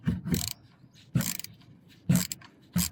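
A ratchet wrench loosens the oil drain plug on a BMW 550i F10 with the 4.4-litre N63 V8, with several short bursts of clicking and turning separated by pauses, close and fairly quiet.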